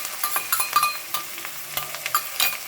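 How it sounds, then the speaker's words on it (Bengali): Spice paste with ground spices, turmeric and yogurt is sautéed and stirred in hot oil for a hilsa fish dish, giving a soft steady sizzle broken by repeated scraping strokes of the spoon, close and moderately loud. "এবারে ভালোভাবে আমি মশলাটা কষিয়ে নেব।"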